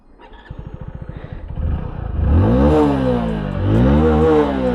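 Hero HF Deluxe motorcycle engine starting with rapid clatter, then revving in two strong rising swells of exhaust roar, loud and close with no talk.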